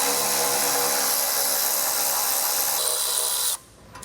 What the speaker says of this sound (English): Now with a 13mm socket, we can remove the 4 bolts on each side that hold our crash beam on here